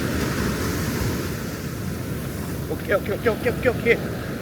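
Surf rolls steadily onto Midigama beach with broad wind-blown wash, while a voice speaks briefly in a short burst of syllables near the end.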